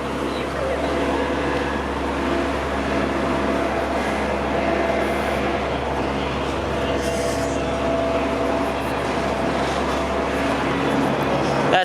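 Toronto 501 route bus passing on Park Lawn Road in Etobicoke, a steady low engine rumble and road noise that holds throughout amid street ambience.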